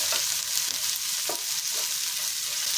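Green chili paste mixture sautéing in a pan over a medium flame, a steady close sizzle with several soft scraping stirs of a spoon through the cooking.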